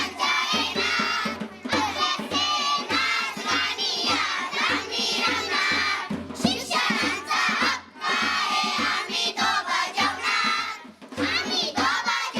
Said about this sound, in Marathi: नेहमीप्रमाणे किलबिलाट होताच.